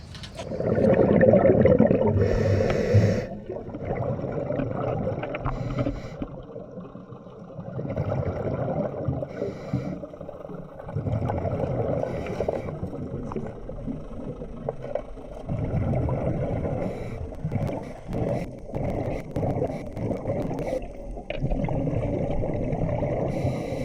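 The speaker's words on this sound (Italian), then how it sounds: "dalla barca inseriranno la marcia indietro" A boat engine running in reverse churns steadily with a low rumble and watery wash, rising in a strong burst early on before settling into a continuous, slightly uneven drone.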